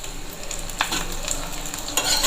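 Two red chillies crackle and sizzle in hot oil for a tempering for sarson ka saag, with a steady frying hiss and a few brief stirring scrapes, close and fairly loud.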